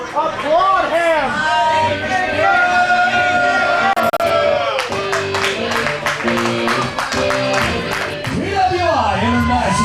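Wrestling crowd at a CWF Mid-Atlantic show yelling, whooping and applauding, loud and close throughout, beneath an announcer's amplified voice.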